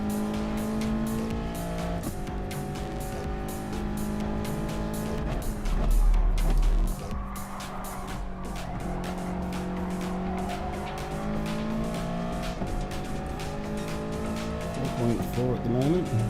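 A race car in a video game laps the Nürburgring GP circuit, its engine revving and shifting through gears while tires squeal briefly in slides, all under continuous commentary from a voice talking over the action.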